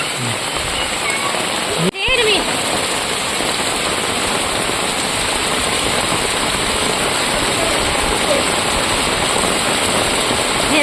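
Heavy rain pours down in a dense, steady hiss of drops striking the ground and surfaces, with one brief sharp knock near the start and faint voices underneath.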